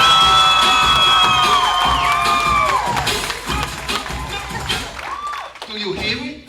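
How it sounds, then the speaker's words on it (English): A picnic crowd cheers, whoops and shouts for Iris after her Filipino tinikling dance, a loud, dense swell of voices with scattered claps and children's shrieks, high calls sliding through it before it thins toward the end. "Do you hear it? Do you hear it? They're cheering for you, Iris."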